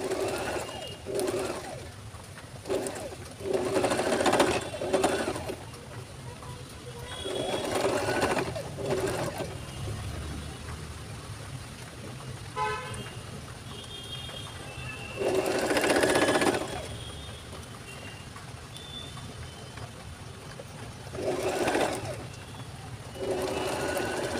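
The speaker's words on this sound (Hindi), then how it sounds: "यहाँ पे इस तरह से इसकी स्टिचिंग करेंगे" A sewing machine stitches a kurti side panel in several short bursts of rapid mechanical whirring, separated by pauses, with pigeons cooing faintly in the background.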